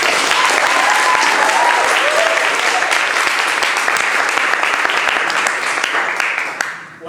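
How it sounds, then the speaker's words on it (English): Studio audience applause on a late-night comedy show, loud dense clapping with scattered cheers that holds steady for several seconds before dropping away sharply at the end. "Please give a round of applause for Drunk Manager."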